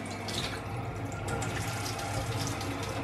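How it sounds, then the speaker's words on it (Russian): Warm water pours steadily from a kitchen tap into a sink, an even, close splashing flow with slight surges, no talking. "Потому что вода переменчивая в кране."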